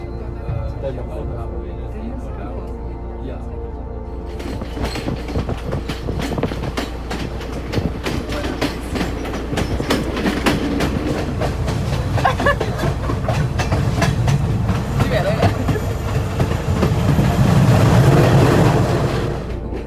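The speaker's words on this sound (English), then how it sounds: "we are on a special train designated for the tourists" A tourist train rolls steadily along the rails in Sri Lanka's mountains with a continuous rumble and rhythmic clatter that swells louder toward the end; faint voices can be heard beneath it.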